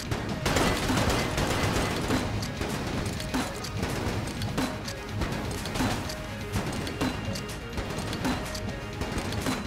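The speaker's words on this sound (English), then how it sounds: "the explosions are basically keeping me safe" Rapid bursts of cartoonish grenade explosions from the video game Enter the Gungeon crackle and pop repeatedly at moderate volume, overlapping in dense clusters with metallic clatter and gunfire-like rattles.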